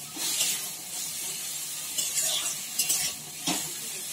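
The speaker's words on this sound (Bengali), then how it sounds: "নুন রাখি দিয়ে ওটাকে ভালো করে ভাজা ভাজা হোক।" Frying with steady stirring in a home kitchen pan, salted food sizzling in a continuous hiss while a utensil scrapes and clinks against the pan in irregular bursts, close and moderately loud with no talking.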